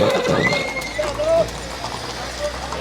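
Horses at the Muktsar livestock fair whinny in short, rising cries over a busy, noisy background, with people's voices mixed in close by.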